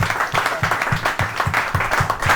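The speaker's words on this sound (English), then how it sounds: "Big round of applause." Audience at an evening presentation gives steady applause, many hands clapping in a dense, even patter that carries on throughout without talk.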